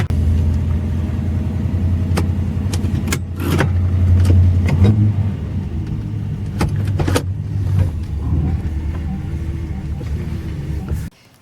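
A 1979 Ford XD Falcon V8 rumbles steadily as it drives slowly into a garage, its deep low engine burble near and loud with a few sharp clicks and knocks, cutting off abruptly at the end.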